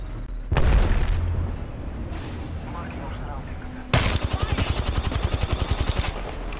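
Apex Legends gameplay in a train yard: a loud grenade explosion booms early, then a rapid burst of automatic gunfire rattles in steady repeated shots near the end, with quieter game sounds between.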